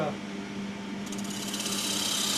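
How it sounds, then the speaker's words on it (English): A woodturning tool cuts soft wood on a lathe, giving a continuous rough rasping drone with a brighter scraping texture entering partway through, steady and close. "it's really soft wood, so we'll try cutting the other way"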